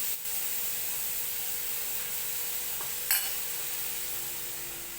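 Onion, garlic and salt frying in a pan, a soft steady sizzle close by with one brief scrape or clink near the middle and no talk.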